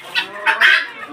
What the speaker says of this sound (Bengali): এই হলো আমার মুরগিগুলো